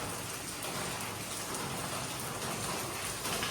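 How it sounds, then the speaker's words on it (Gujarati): Steady rain pours down in a dense, even hiss that continues without a break, with no voices over it. "અત્યારે પણ વરસાદ ચાલુ છે"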